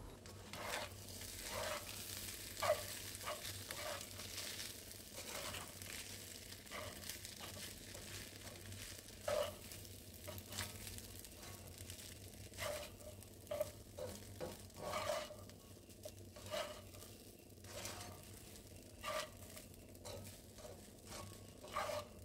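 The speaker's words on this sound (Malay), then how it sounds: "Kacau-kacau sehingga sebati." Egg fried rice with chili and spring onion being stirred and fried in a pan, a steady quiet sizzle with repeated scraping and tossing clicks of the spatula, close and continuous with no talking.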